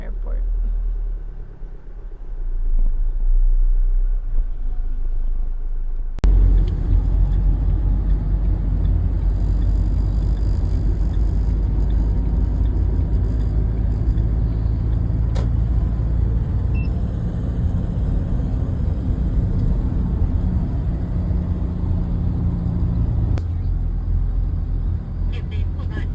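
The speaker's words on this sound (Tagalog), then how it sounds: "Traffic pa dito palabas ng airport." Road traffic at 3:36 in the morning on the way out of an airport in Vietnam, heard from inside a vehicle: a steady low engine and road rumble that runs the whole time, with a sharp jump in level partway through.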